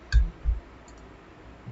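Two quick, light clicks from a computer keyboard and mouse, close and sharp, followed by a quiet pause and a faint third tap at the end.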